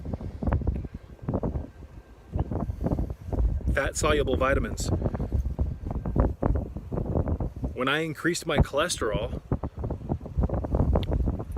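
Heavy wind buffeting an outdoor microphone in loud, rumbling gusts that come and go, nearly continuous under someone talking throughout.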